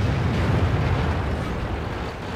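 A dense, low, rumbling boom from World of Tanks fills the whole stretch: heavy tank cannon fire in the video game, loud and continuous with little change and no speech.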